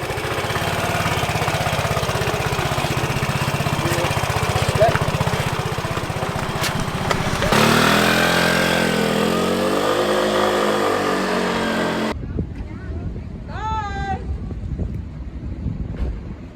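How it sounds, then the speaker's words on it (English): Moped ridden outdoors in Mallorca, its small engine droning steadily with heavy wind buffeting, then a shift in tone as it revs and slows near the end. "one last moped ride"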